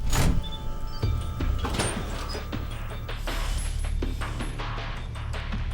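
A security door in the Alpha Protocol video game unlocks with a mechanical whir and sliding rattle, followed by a few sharp clicks, heard close and alone with no voices.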